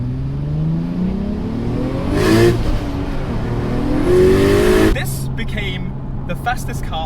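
A 530-horsepower Nissan Skyline R34 GTR with a single turbo conversion pulls hard from inside the cabin, engine note rising through two gears before lifting off into a flutter of turbo chatter and steady cruising drone.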